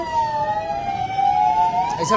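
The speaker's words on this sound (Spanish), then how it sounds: "En donde sale una ambulancia" An ambulance siren wails with a steady rising and falling tone as it leaves a large police operation, loud and close, with a short burst of other noise at the end.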